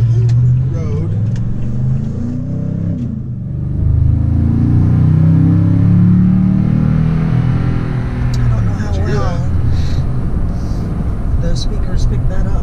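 Toyota Tundra pickup engine pulls hard while merging onto a 55 mph road, a loud low rumble swelling through the middle of the run beneath steady talk in the cab.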